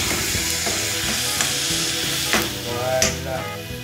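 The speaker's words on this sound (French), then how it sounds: "Vous entendez cette fumée? Je mélange bien avec les oignons." Onions and tomatoes sizzle steadily in a hot pan while being stirred, with a loud continuous frying hiss and occasional scraping strokes of the spoon, no voices.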